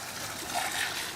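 Water sloshed out of a coffee can into an outdoor survival setting, a short splashing pour lasting about a second, close and moderately loud, with no voices.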